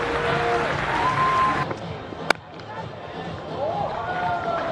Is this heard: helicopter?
no